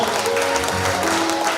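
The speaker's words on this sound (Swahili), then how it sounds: "Asante sana, makofi kwake" A crowd claps together in steady, fairly loud applause that holds evenly throughout.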